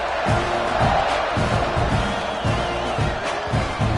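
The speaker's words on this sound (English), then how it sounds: "this crowd is feeling themselves after that last drive" A football stadium crowd roars after a scoring drive, a dense, steady wash of cheering and shouting with rhythmic low thumps of stomping or drums underneath, loud and continuous throughout.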